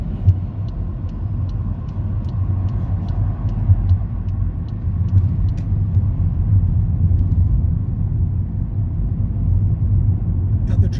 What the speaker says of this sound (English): The car's making a lot of noise.